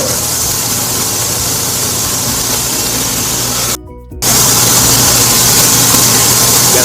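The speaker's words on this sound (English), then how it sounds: "Now for a little edge work on the belt sander." A belt sander edging a wooden skateboard deck runs as a loud, steady close-up whine and rasp. It cuts out abruptly for about half a second partway through, then resumes at full strength.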